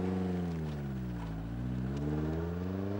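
A mid-engine Lotus sports car with an HC engine accelerates hard, its steady, loud engine note rising and dipping in pitch as it pulls through the revs.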